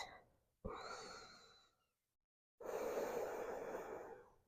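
Slow, deep breaths during a vinyasa yoga flow: two long, airy exhale-like rushes separated by a pause of silence, close and fairly quiet, with no talking.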